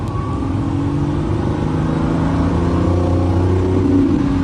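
A Lamborghini engine revs with its exhaust valves open in Strada mode, a loud, steady low-pitched drone holding under a rising tone throughout, with no talk.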